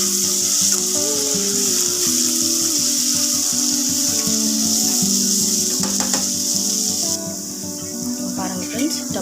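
Tomatoes sizzle steadily in a hot pan, a bright continuous frying hiss that holds close and even throughout with a few light clinks, then eases slightly near the end; no one speaks.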